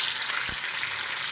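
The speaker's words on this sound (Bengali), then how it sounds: "এখন দিয়ে দেবো পাঁচফোড়ন, দিয়ে দেবো কয়েকটা তেজপাতা" Panch phoron spices and bay leaves sizzling in hot oil for dal: a steady, bright, close frying hiss with one soft low thump partway through.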